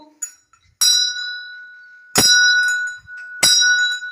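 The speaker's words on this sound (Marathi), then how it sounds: "मी खंडोबाच्या देवळाची घंटी वाजवलेली आहे" Three loud, clear strikes of a metal bell at a Khandoba temple, each ringing out with a long sustained tone that decays slowly before the next hit.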